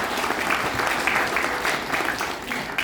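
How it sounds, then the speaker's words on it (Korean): Audience applause for association presidents at a Korean community gathering, a steady dense clapping that holds loud and even for about three seconds with no talk over it. "여기 계시는 회장님들 박수 한번 보내주시면 감사하겠습니다"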